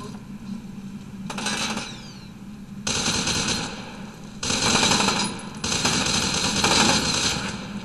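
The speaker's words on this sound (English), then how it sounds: "This is a very snipery machine gun." Machine gun fire in the F.E.A.R. 2 video game rattles in several loud, close bursts separated by brief pauses, with rapid repeated shots through each stretch.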